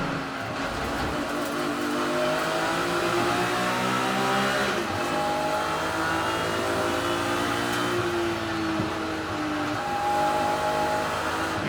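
BMW race cars accelerating at the Brands Hatch circuit, several engines layered and droning at high revs with rising and falling pitch, loud and sustained from start to finish.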